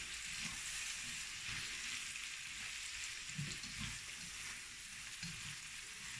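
Tempeh, dwarf beans and onions sizzle and fry steadily in a pan, a continuous close hiss with occasional stirring scrapes and low knocks, no voices.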